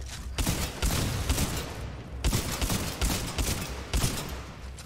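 Shotgun blasts in the video game Titanfall 2, loud heavy booming shots repeating in quick succession with short gaps, set against a dense rumbling battle background.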